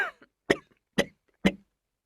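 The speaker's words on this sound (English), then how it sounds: "I can't stop coughing and blowing my nose." Coughing in a recorded English lesson tape script: four short, dry coughs spaced about half a second apart, close and clear with silence between them.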